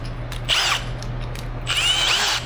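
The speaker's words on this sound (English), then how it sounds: "now I'm gonna step up drill bit size to 1/4 inch" A 1/4 inch step drill bit bores into aluminum along a cracked weld, two short whining bursts of drilling separated by a pause, close and loud over a steady low hum.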